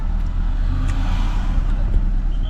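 Road traffic in Manali with cars passing: a steady, close engine rumble and tyre noise that runs without a break for a few seconds.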